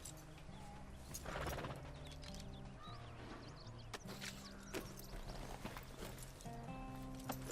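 Horse hooves in Red Dead Redemption 2, a steady clip-clop of walking hoofbeats with a neigh, set against music and light ambience, moderately near.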